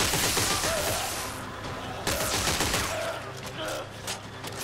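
Rapid bursts of gunfire from a sci-fi shooter, Dead Space 3, rattle loudly and continuously through the stretch, dense and close, with a dense layer of effects and no clear speech over it.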